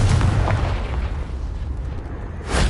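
A Confringo fire spell landing in Hogwarts Legacy with a loud, rumbling explosive boom that fades into a roaring tail, followed by a fresh burst of noise at the very end.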